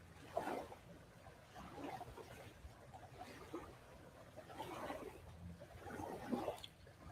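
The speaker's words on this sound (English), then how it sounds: "The waves are relaxing." Gentle ocean waves washing in slow, soft swells at a low level, with a faint surging rhythm and no voices.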